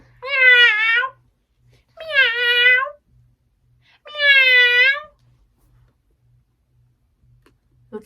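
An orange cat gives three long, drawn-out wailing meows, each lasting about a second, separated by short pauses, with a faint steady ticking in the background.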